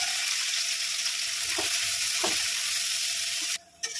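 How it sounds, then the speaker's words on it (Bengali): Chopped onions fry in a pan with a loud, steady close-up sizzle and a couple of brief stirring knocks, and the sound cuts off abruptly near the end. "পেঁয়াজটা কেটে রেখেছিলাম ভেজে নেব"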